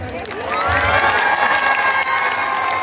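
A large crowd at the Gajapati utsav festival in Paralakhemundi claps and cheers, rising to a loud sustained roar of applause and shouts after a quieter start.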